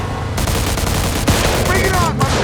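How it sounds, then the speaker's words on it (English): Gunfire in the Mafia 2 video game, dense bursts of shots crackling over a busy action mix, with brief voices and a whistling sound among the blasts. "Holy cow, it's a lot of gunfire."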